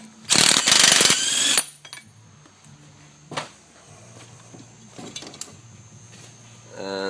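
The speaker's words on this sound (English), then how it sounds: "I'm gonna take that big 32mm nut off of the axle." A loud burst of an impact wrench breaking loose the big 32mm axle nut on an Audi TT/VW Golf axle, followed by lighter mechanical clunks and ratcheting against a quiet background.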